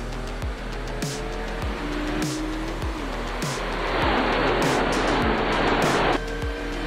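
ARCA stock cars racing at Atlanta Motor Speedway in iRacing, engines droning loudly with repeated gear-shift drops and rising revs, and a denser roar of the pack building in the middle before easing off.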